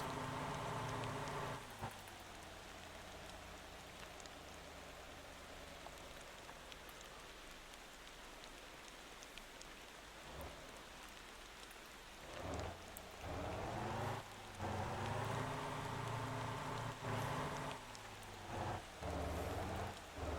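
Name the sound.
rain in the video game Motor Town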